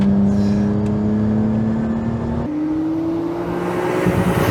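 A Nissan Skyline GT-R R34 engine revs hard and high while driving, a strong rising whine that climbs, shifts gear near the middle, and keeps pulling, heard from inside the car.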